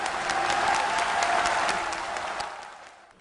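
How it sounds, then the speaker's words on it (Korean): Warm, dense applause from a large crowd at a Korean political rally, welcoming Roh Moo-hyun, holding steady and loud before gradually thinning and fading out toward the end. "뜨거운 박수로 맞아주시기 바라겠습니다"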